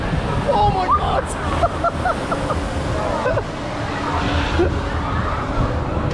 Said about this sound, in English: Right, the log flume's coming.